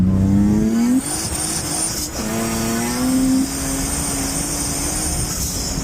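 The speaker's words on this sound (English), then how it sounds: "You can literally hear it going in and out of traction, and that's fourth gear" A turbocharged V6 Honda Civic engine revs hard in fourth gear while losing and regaining traction, its pitch surging, dipping and recovering in uneven bursts over a constant roar and faint high whine.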